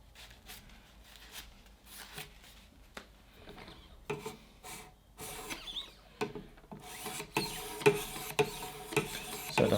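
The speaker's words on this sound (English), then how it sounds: "the higher up in grit you go with your stones, the quieter the noise comes" A kitchen knife being stroked across a 1500 grit whetstone, giving repeated scraping rubs that start sparse and quiet and grow denser and louder toward the end, close up with no talk.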